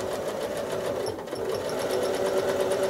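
Domestic sewing machine doing free-motion quilting on a maze-style design, running steadily with a fast, even motor whir and rapid needle chatter throughout, close and continuous with a brief dip midway.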